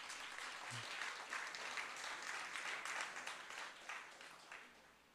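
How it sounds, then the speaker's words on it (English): An audience at a primary school past students' association event gives a round of applause, a dense even clapping that swells and then gradually tapers off, with no talking over it. "Let's give him another round of applause."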